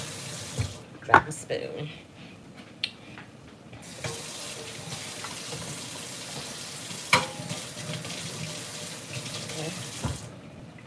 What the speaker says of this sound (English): So I'm going to wash these cans off. Just a quick rinse and wipe.